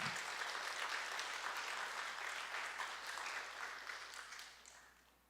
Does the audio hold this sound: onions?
no